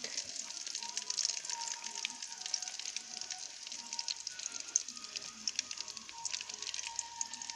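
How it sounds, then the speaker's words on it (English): Steady, quiet sizzling and crackling of Jamaican fried dumplings frying in hot oil in a pot outdoors, continuous throughout with small pops. "So it's frying now."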